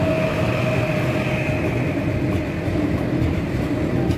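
The Haramain high-speed train between Mecca and Medina in Saudi Arabia, reaching 300 kilometers per hour, gives a loud, steady rushing roar and rumble throughout, with no voices over it.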